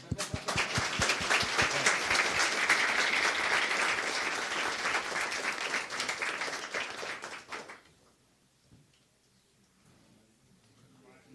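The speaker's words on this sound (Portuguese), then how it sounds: "Palmas." Audience applause at a talk on venture capital and fundraising for founders, dense steady clapping for about eight seconds that then stops abruptly, leaving a quiet room.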